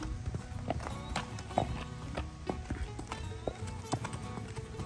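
A tame, older horse walks on a farm, hooves clip-clopping in an irregular steady rhythm at close range, with faint background chatter and rustling.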